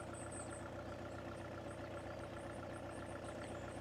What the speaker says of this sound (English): Wish that car engine wasn't running. Or van engine.